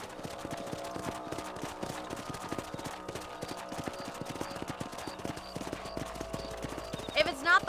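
Horses gallop with steady clip-clop hooves while riding in the Western video game Red Dead Redemption, a continuous rhythmic beat under game music with a brief whinny-like burst near the end.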